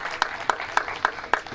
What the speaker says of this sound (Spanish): pido un fuerte aplauso para quienes desde el silencio nos apoyan